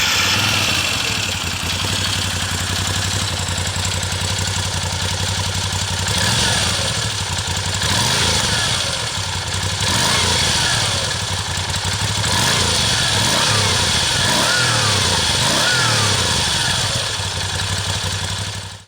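A Moto Guzzi V9 Roamer two-valve motorcycle engine runs steadily and loudly, close up, with a continuous mid-pitched throb and mechanical clatter that swells slightly in places, with no talk over it.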